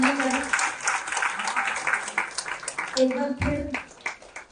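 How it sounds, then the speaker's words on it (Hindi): Audience applause at a teachers' honoring ceremony, a busy crowd clapping over a speaker's voice that carries through and cuts in briefly near the end. "मैं चाहती हूँ कि सभी जोरदार तालियों के साथ इनका मंच पर अभिनंदन करें।"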